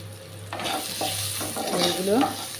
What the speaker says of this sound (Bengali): এবার বেগুন দিয়ে দিয়েছি, বেগুনগুলোকে ভাজা করে নেব।